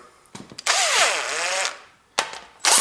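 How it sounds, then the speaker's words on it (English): An electric driver spins a long cylinder head bolt on a Ford Duratec engine in short whirring bursts, one longer run whose pitch rises and falls, then quick stop-start spins close by. "then I can rotate that little bit faster with my electric driver"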